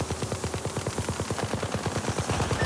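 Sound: gunfire in video game Apex Legends

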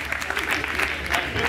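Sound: audience applause at a roast battle

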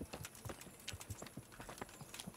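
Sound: horse hooves in the video game Kingdom Come: Deliverance

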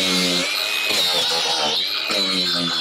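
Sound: power tool grinding metal roof around screw

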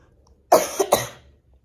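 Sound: coughing

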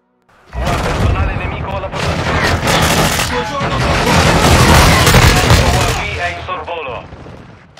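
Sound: gunfire in the video game Call of Duty Warzone 2

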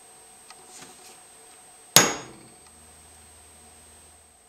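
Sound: chisel cleaning up corners of notches in wood

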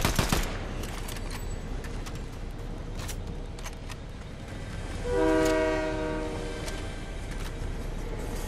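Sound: train running in a video game

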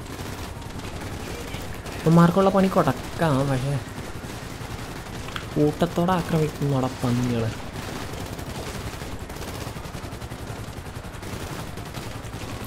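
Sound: gunfire in a video game

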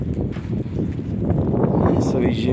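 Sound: strong wind blowing

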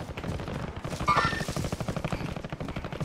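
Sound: gunfire in a video game

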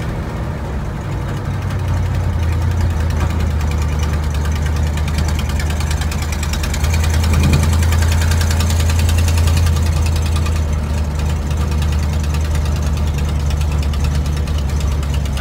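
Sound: 1960 Cadillac hearse engine running loud with exhaust leaks

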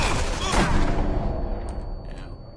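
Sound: gunfire in the video game Sniper Elite V2

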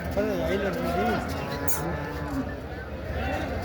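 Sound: cow mooing

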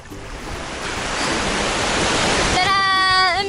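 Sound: sea waves at a beach in Hawaii

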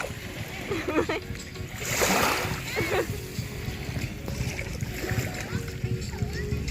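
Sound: sea waves splashing on a beach

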